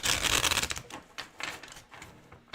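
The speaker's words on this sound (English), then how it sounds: "One more shuffle because that wasn't a good one." Tarot cards being shuffled by hand: quick papery riffling bursts, dense at first, then a few shorter separate flurries, close and fairly soft, with no talking.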